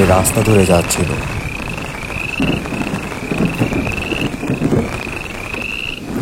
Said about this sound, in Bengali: চারদিকে ডোবা নালা থেকে ব্যাঙের ডাক শোনা যাচ্ছিল।